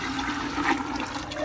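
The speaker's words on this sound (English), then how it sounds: "just pour it into the vegetables." Liquid pours steadily into a pot of vegetables while shrimp and crab are being cooked at home, a continuous close watery rush without pause and no talking.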